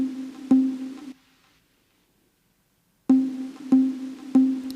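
An 8-bit organ track from an Amiga 500, low-cut EQ with delay, plays short punchy notes with echo tails, a burst at the start, then silence, then three repeated stabs.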